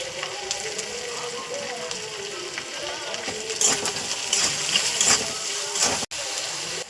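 Prawn curry masala with ginger, garlic and tomato fries in a pan, giving a steady, close sizzle with faint scraping. The sound grows a little louder partway through.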